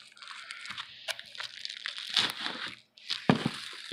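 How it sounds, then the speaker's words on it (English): Close crinkling and crackling of bubble wrap being pulled off a new Samsung S9+ phone, with a brief pause before more rustling resumes. "Take the bubble wrap off"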